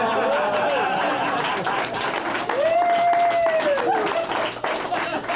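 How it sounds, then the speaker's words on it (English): Audience applause at a comedy show, a steady wash of clapping and crowd noise with voices and whoops rising over it, moderately loud and continuous throughout. "I was really worried you weren't going to applaud it that way."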